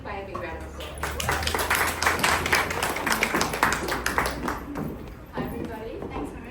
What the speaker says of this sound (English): Can we give Faye a big round of applause?